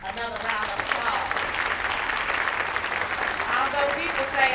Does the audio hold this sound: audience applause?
yes